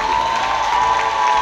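Brief burst of audience applause at a student beauty pageant, Miss Student 2023, dense and steady clapping with a faint crowd murmur, close and fairly loud for about a second and a half.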